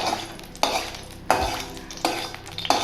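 A spatula spreads oil around a hot kadai in a few repeated scraping strokes against the metal, each with a soft sizzle, heard close with no talking.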